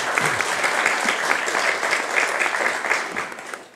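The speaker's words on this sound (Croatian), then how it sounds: "molim vas sve za jedan veliki aplauz za naše učesnike" An audience applauds participants at a comic book promotion and exhibition, a dense, steady burst of clapping from a roomful of people that carries on throughout and tails off slightly at the end.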